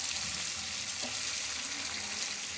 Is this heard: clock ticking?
no